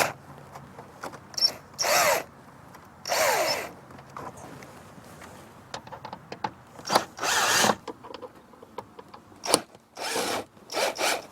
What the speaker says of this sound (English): the only thing you need is a Phillips bit to take it apart